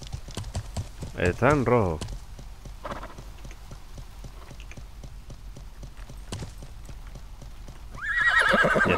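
Glitched horse sounds in the medieval game Life is Feudal: repeated clip-clop hoofbeats and looping whinnies, a loud neigh early and another at the end, heard under someone talking in Spanish.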